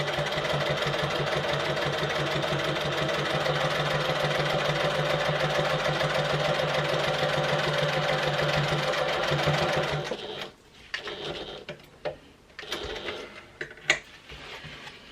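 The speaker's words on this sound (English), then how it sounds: "I'm just going to come over this seam again where my flap is attached, just so that it's like a reinforcing stitch" A sewing machine runs a steady, continuous reinforcing stitch right beside an existing seam where a flap joins a small clutch wallet, loud and close for about ten seconds before stopping, followed by soft fabric handling noises.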